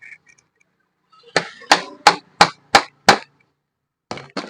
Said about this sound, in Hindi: फिर हथौड़ी की मदद से यहाँ पे मारेंगे